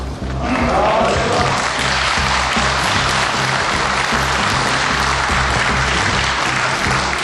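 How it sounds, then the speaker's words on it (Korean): Lawmakers clap during a National Assembly plenary session, a broad sustained roar of applause filling the chamber for over seven seconds with a low steady hum underneath. "회의 중에 박수를 치는 일을 삼가해 주시기 바랍니다."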